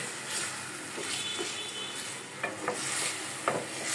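Spiced beef sizzles and fries in hot oil for a khichuri dish, a steady bright crackle with occasional stirring scrapes and small pops, close and fairly quiet with no talking.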